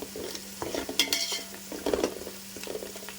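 Ingredients for egg pulao frying and being stirred in a pan, a soft steady sizzle broken by scraping spoon strokes and light clinks of utensils against the metal, close and fairly quiet with no voices.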